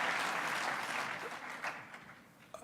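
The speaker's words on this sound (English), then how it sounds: "I'll wait for the applause to die down." Audience applause fills a morning event in Ottawa as the Premier of British Columbia takes the stage, a dense, steady clapping that stays loud before tapering slightly toward the end.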